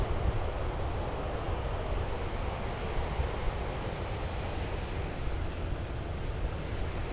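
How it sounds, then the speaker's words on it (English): Water rushes over the Clearwater Lake spillway below the dam in the Ozark mountains, a constant, loud, wide roar with no breaks. "We had to stop at the spillway, the Clearwater Lake spillway."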